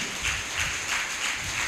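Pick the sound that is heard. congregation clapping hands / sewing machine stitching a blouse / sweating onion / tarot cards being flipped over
congregation clapping hands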